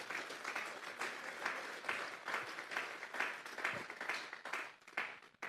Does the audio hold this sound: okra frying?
no